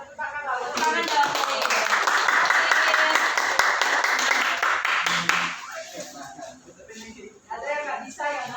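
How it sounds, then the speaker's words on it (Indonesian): Students in a science class applaud together in a sustained burst of hand clapping, loud and near, with voices talking and calling over and after it. "Tepuk tangan dong."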